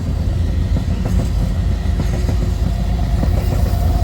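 A Norfolk Southern freight train rolls past close by with DPU locomotives, a loud continuous rumble of wagons with rhythmic clickety-clack of wheels over rail joints.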